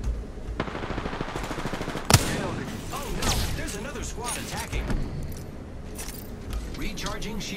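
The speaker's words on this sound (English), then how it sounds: "I am taking fire" Rapid automatic gunfire in the video game Apex Legends, loud dense bursts running almost continuously with a sharp louder shot partway through and mechanical clatter, under game voice lines.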